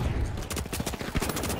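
Rapid bursts of M11 gunfire in the video game The Finals crackle in a quick, dense stutter that lasts the whole short moment, loud and close.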